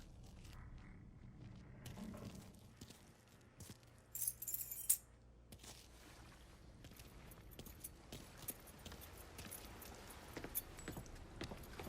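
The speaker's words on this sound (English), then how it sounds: "Lincoln, pick up the keys." Keys are picked up in the video game Mafia III, a brief metallic jangle near the middle amid scattered clicks and shuffling game ambience, with no speech.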